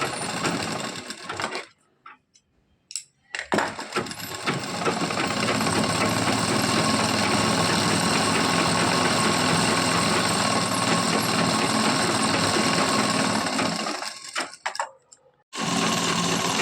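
A sewing machine stitches the folded-under bottom hem of a housecoat in a tailoring class, running in a loud, steady whir for most of the stretch with brief pauses near the start and end.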